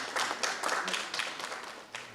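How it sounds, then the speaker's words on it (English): Audience clapping in a round of applause for a councillor at an African leadership media launch event in Polokwane, Limpopo, scattered hand claps of moderate level with a few louder bursts across the clip. "A warm round of applause for Councillor Mshamane."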